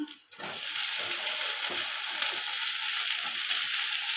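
Onion stalks, green chilli and tomato fry for a fish curry, producing a loud, steady, hissing sizzle that swells after a brief quiet start and continues unbroken.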